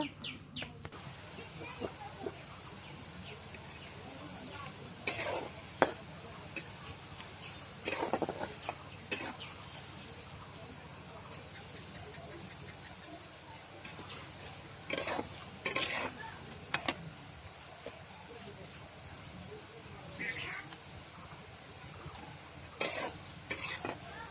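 Burinda fritters fry in hot oil, a low steady sizzle running throughout with occasional sharp clinks and scraping of a utensil against the pan, fairly quiet and with no talking.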